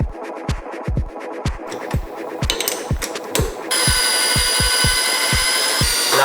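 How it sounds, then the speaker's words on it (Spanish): A rapid series of sharp metallic taps and scrapes as a milling cutter mounted on a lathe touches metal repeats at a steady rhythm, then a continuous high machine whine joins in beneath them. "La fresa ya está rozando."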